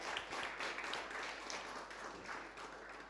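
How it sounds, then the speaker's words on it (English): A crowd applauds focus group leaders at an event, steady dense clapping held at a fairly even level for the whole stretch, with no voices over it. "can we just have a big round of applause for our focus group leaders?"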